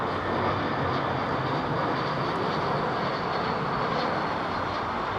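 A small aircraft passes overhead near London Heathrow Airport, a steady broadband engine rumble holding level throughout, moderately loud with no voices.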